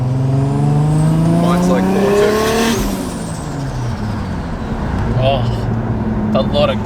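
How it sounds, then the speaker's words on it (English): A 1JZ engine converted to single turbo, burning E85 with aggressive timing, revs hard on a test drive, its harmonics climbing and falling through gear changes with turbo whoosh and flutter over a steady loud drone, and a voice talking briefly. "a lot of good turbo noises now"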